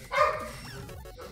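A dog gives a short bark followed by a brief whine, heard indoors at moderate volume.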